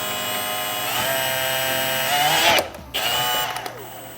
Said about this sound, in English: the instructions do tell you to use a 1/4 inch drill bit to make these holes